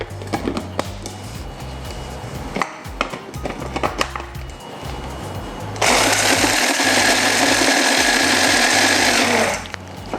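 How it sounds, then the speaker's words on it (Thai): A kitchen blender grinds galangal chili paste with a pinch of salt. It starts suddenly partway through as a loud, steady whirring roar, then stops after a few seconds, following quieter clattering sounds of preparation. "แล้วเดี๋ยวเราจะใส่ลงมาปั่นรวมกันเลยค่ะ"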